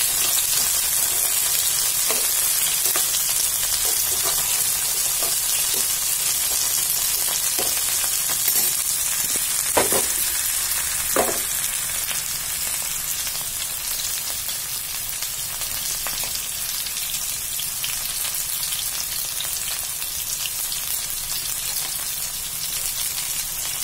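Ivy gourd and pointed gourd sabzi sizzles steadily in a pan, a loud continuous hiss with a few brief scraping stirs near the start and middle.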